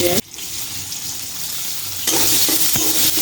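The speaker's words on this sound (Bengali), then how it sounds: "পেঁয়াজটা আমি হালকা করে ভেজে নিব।" Onion frying in white oil in a karahi for an egg curry makes a loud, close, continuous sizzle that briefly dips and then swells again as the onion is stirred; no talking.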